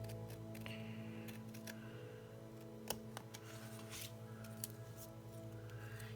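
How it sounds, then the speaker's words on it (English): Scissors snip to trim the edges of a handmade pumpkin spice card panel. The cuts come as faint, close, crisp clicks, with a few sharper snips scattered over a quiet background. "you can just bring in some scissors to trim that up a bit"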